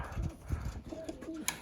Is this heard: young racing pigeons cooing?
yes